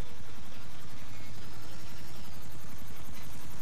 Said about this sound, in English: get in a helicopter